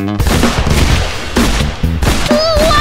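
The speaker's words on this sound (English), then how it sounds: "It doesn't stand a chance against my trusty revolver." Rapid, loud bursts of revolver gunfire crack one after another in an animated monster chase, with sharp gaps between volleys and a brief high whistling tone near the end.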